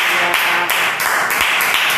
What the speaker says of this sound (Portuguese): Pastora, vamos aplaudir Jesus por este hino?